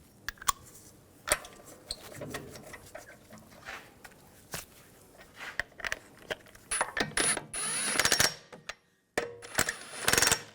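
A hand ratchet snugging down wheel lug bolts on a 2006-2010 BMW 550i, bursts of rapid clicking pawl ratcheting with clanks and pauses between, close and fairly loud, without talk.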